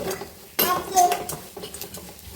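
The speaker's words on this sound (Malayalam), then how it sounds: "നന്നായിട്ട് മിക്സ് ചെയ്ത് കൊടുത്ത് നല്ല പോലെ മൂപ്പിച്ചെടുക്കണം" Chicken kondattam being stirred and fried in a pan, with a few close metallic clatters and scrapes of a spatula against the pan over a low background sizzle.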